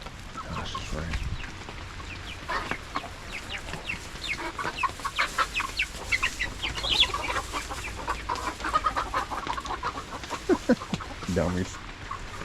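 Chickens cluck repeatedly around a backyard coop on a rainy day, a busy scatter of short calls throughout, with a person talking nearby.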